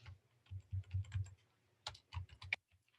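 Quick keystrokes on a computer keyboard, nearby and fairly soft, arriving in two brief bursts of tapping with a short pause between.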